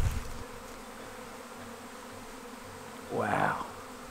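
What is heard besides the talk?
swarming honey bees buzzing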